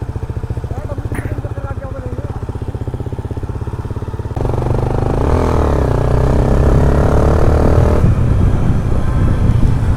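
A Honda CBR250R motorcycle with a loud aftermarket exhaust idles with a rapid, pulsing beat, then revs up into a louder, rougher roar that holds for several seconds close by.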